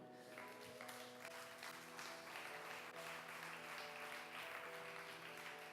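Steady applause from a church congregation fills the whole stretch, dense continuous clapping at moderate level with a faint sustained musical tone underneath.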